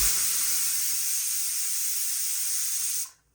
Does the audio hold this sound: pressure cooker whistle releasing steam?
yes